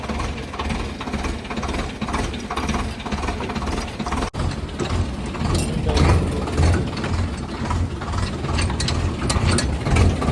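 A construction machine runs at a building site, its engine rumbling and clattering steadily with mechanical rattles throughout, close and fairly loud, with no voices.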